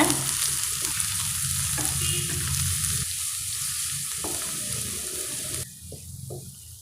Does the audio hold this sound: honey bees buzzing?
no